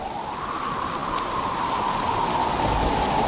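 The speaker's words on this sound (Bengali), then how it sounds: "বলতে বলতেই জোরে বৃষ্টি পড়া শুরু হয়ে গেল।" Heavy rain beginning to pour down outside a house, a dense, even hiss that holds steady and close for the whole stretch with no voices over it.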